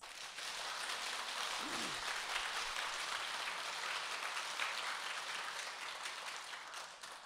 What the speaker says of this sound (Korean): 신미대사에게 박수 한번 쳐주세요